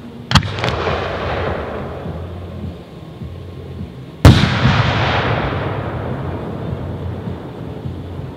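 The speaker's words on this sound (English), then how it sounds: "Red and brocade with 8-point twist with green strobe. Golden super brocade crown." Two 1.3 aerial firework shells, red and brocade with an 8-point twist and green strobe, burst with sharp booms a few seconds apart. Each blast trails into a long, fading, crackling hiss.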